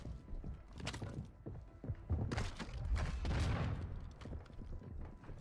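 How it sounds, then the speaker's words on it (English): Gunfire in Call of Duty Warzone, steady bursts of shots and booms running under the whole stretch, busiest in the middle, with no talk over it. "Got two people shooting me."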